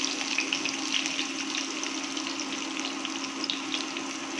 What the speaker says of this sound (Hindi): इन सब को थोड़ा सा लाल होने तक मैं फ्राई करूँगी.